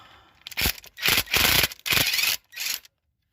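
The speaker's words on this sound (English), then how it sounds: "I already got my wrench ready. to take out my bolts" A cordless Ryobi power tool loosens the transmission pan bolts on a 2002 Chrysler PT Cruiser, giving five close, loud bursts of harsh rattling impact noise, each lasting under half a second, separated by short pauses.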